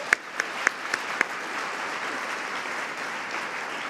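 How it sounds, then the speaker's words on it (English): A conference audience applauds: a few sharp, separate claps open, then they blend into a steady, moderately loud round of clapping that carries to the end. "How about a round of applause for the team who organized that?"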